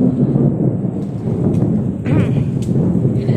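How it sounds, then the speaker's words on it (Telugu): Thunder rumbles loudly and continuously over steady rainfall during a rainy-season storm in Nellore. The deep, rolling boom stays close and heavy while the rain hisses underneath. "ఒకవైపు చల్లగా వర్షం చూడండి, ఉరుములు మెరుపులు ఉంది మాకైతే ఇక్కడ"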